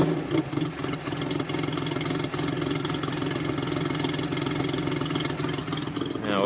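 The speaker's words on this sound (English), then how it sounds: "Nice sounding dual exhaust." A truck engine rumbles through a dual exhaust, a steady deep throbbing note that holds even and close before a brief lift in revs at the end.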